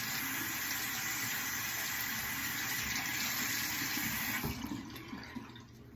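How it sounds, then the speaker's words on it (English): Water runs steadily from a tap for a cold rinse, a continuous close hiss and splash that tapers off near the end. "I'm gonna do a cold rinse."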